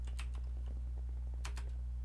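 Keys on a computer keyboard are tapped in a few quick clusters of clicks, fairly faint over a steady low electrical hum.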